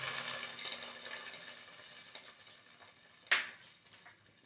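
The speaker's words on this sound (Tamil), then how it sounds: "கடுகு வெந்தயம், ஒரே ஒரு வரமிளகாய் தாளித்து கொட்டேன்" A short hissing sizzle as hot oil tempered with mustard seeds, fenugreek and a dried red chili hits pumpkin buttermilk curry in a pot, one quick burst over faint kitchen background noise.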